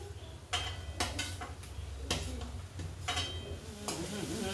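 Onions sizzle steadily in a pan as a tomato, chilli, curry leaf, coriander and mint paste goes in for mutter paneer, with repeated scraping stirs and spoon clinks over the continuous frying hiss.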